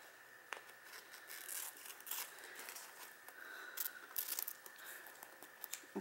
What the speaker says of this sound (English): And then I'll take my scissors and cut them.